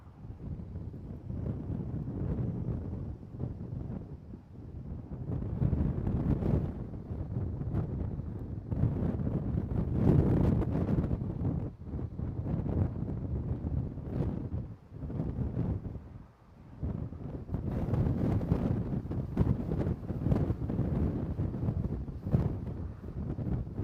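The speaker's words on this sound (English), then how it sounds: "the wind was whipping along pretty good in there as well" Strong wind gusting steadily near the Christie Mountain wildfire by Skaha Lake, with whitecaps on the water, buffeting the microphone as a continuous loud roar with surges throughout.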